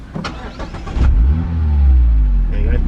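A Mazda MX-5 with a 2.0 Skyactiv-G engine is push-button started with the clutch pressed, catching abruptly and settling into a steady, close, deep idle rumble after someone speaks briefly.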